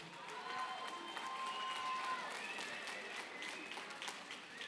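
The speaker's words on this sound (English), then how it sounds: "let's give a big round of applause for both of these gladiators" A crowd at a TPF 25 mixed martial arts event applauds both fighters after three rounds. The applause is faint and distant, a thin wash of clapping and crowd noise.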